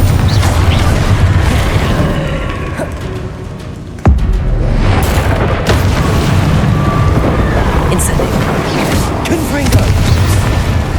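Booming spell blasts from Hogwarts Legacy gameplay, a Confringo fire explosion amid other casting, with heavy rumbling impacts and a sharp burst partway through, loud and dense, with a voice calling out spell names over the action.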